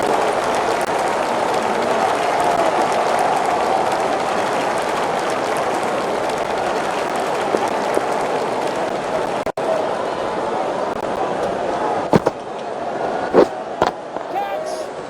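Sustained crowd applause and cheering at an India versus Australia cricket Test match, a dense steady roar throughout with a few sharper bursts near the end.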